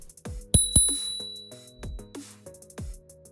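The rim bell on the left handlebar of an Aovopro M365 electric scooter rings with several quick, bright metallic dings, close up, each leaving a short ringing tail, with no voices.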